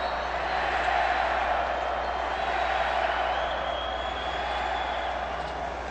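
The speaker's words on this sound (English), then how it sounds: "It is, believe it or not, a sold-out crowd." A sold-out arena crowd at a 2015 FIBA Americas Championship basketball game between Panama and Mexico keeps up a steady, dense roar of murmuring voices and ambient noise, broad and continuous for the whole stretch.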